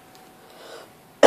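A single sharp cough bursts out at the very end, close and loud, after a moment of near silence.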